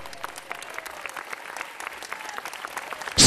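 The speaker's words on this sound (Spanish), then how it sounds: "Dele un aplauso al Señor." Church congregation clapping, a light, scattered patter of hands at moderate distance, steady for a few seconds before a louder burst at the end.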